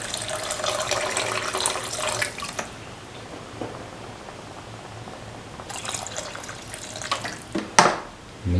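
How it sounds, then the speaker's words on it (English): Water poured from a jug into a pot of potato and ground cashew stew, a steady splashing pour for about two seconds, then quieter, with a second pour and a few clinks near the end. "Now pour in 450 ml of water"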